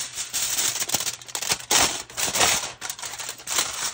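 A sheet of aluminum foil is pulled and torn off its roll in a kitchen, giving loud, sustained metallic crinkling and ripping with repeated bursts of tearing, alone without talk.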